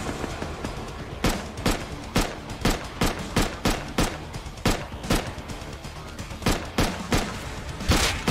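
Gunfire in the game Rust, a long string of loud, evenly spaced shots fired in quick succession, close and sharp, with no talking.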